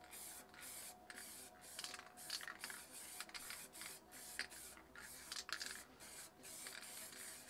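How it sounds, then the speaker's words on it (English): MTN 94 spray paint can spraying in short hissing bursts around stencils, a quick irregular series of soft sprays with brief gaps, faint and close. "So just spray a bit lighter when you go around your lid stencils"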